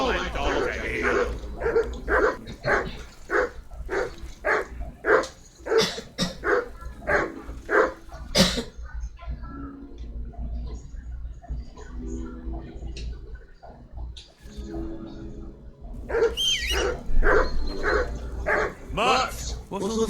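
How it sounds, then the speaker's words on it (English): A dog barks repeatedly in a steady run of sharp, loud barks, pauses while muffled sounds fill the middle, then barks again near the end, close by and alongside background talk. "That barking was a pain in the ass."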